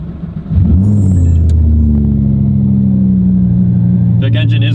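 A twin-turbo Audi R8 engine idles steadily with a deep, loud rumble after starting up, holding an even drone throughout.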